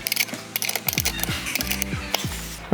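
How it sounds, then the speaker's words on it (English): A socket ratchet clicks in quick repeated bursts while tightening small nuts on the rear LED light fittings of a Caterham, close up and clear with no voices. "Simply wind the nuts on and then tighten with an 8mm socket or"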